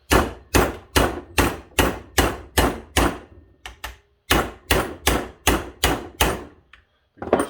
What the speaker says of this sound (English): impact driver that you hit with a hammer.